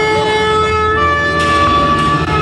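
An ambulance siren on a street holds a loud, steady, ringing tone that shifts pitch slightly partway through, close by and with no talking over it.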